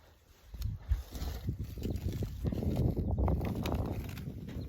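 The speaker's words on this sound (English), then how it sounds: "you can hear the fork digging on those rocks." Scraping and crunching from a garden fork striking rocky soil, irregular gritty impacts building to a steady rough noise, close by.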